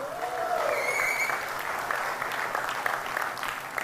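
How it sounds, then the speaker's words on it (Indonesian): Seminar attendees break into full applause, a dense crowd of clapping hands sustained throughout, with a faint tonal whistle or cheer at the start. "Tepuk tangan untuk Anda semua."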